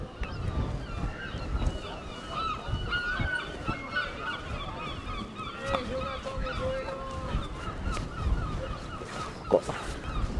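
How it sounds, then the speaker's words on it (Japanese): Many seagulls call on Mont-Saint-Michel island, a busy mix of overlapping squawks and cries at moderate distance, with one sharp close call near the end, over wind buffeting and a low outdoor rumble. "カモメがいっぱい鳴いてます"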